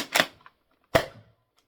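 A Nerf Rival Takedown blaster fires two sharp, snappy shots about three-quarters of a second apart, close and fairly loud against near silence.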